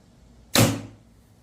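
A single arrow fired from a PSE Mach 34 compound bow punches through paper, one sharp, loud, close thwack with a short decaying tail in an otherwise quiet room.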